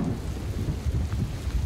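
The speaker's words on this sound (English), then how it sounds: "Lightning! There's lightning here!" Rumbling thunder during a heavy California rainstorm, a low, continuous roll with swelling pulses over steady rain, fairly close and with no talking.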